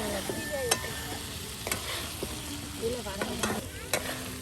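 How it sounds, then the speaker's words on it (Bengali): Beef cooking with spices for bhuna khichuri, prepared outdoors by a riverbank. A steady close sizzle of frying runs throughout, with repeated scraping strokes of stirring in the pan. "একদম মশলার সাথে ভাজা ভাজা করে নেওয়া হচ্ছে"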